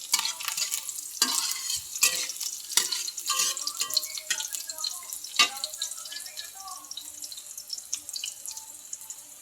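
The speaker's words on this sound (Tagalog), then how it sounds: "Isusunod ko na po dito yung karne. Yung giniling na karne." Ground meat tipped into a frying pan for a vegetable and ground meat dish, with close clattering and scraping stir strokes over a wet, hissing sizzle, irregular knocks scattered throughout.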